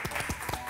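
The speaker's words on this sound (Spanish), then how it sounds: "Un aplauso para Rolando." A short burst of applause from a small group, several quick hand claps close by, fading out in under a second.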